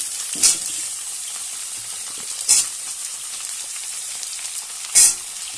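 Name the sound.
pumpkin, papaya, plantain and pointed gourd frying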